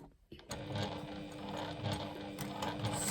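A domestic sewing machine stitches steadily through five folded layers of fabric, its motor running in a continuous close whir after a brief quiet start, with faint mechanical clicking underneath.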